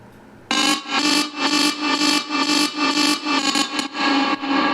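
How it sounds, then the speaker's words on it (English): A dense, distorted, grainy texture from a short granularized vocal sample pulses in steady rhythmic swells, pitch-bent and drenched in reverb and effects, starting abruptly after a brief quiet moment. "It's just a short granularized sample from the vocal"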